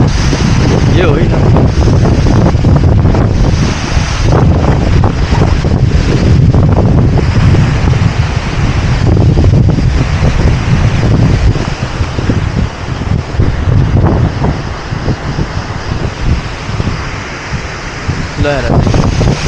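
A roaring waterfall beside the muddy trail to Tilicho Lake, a steady loud broadband rush of falling water that fills the whole stretch, with wind buffeting the microphone throughout.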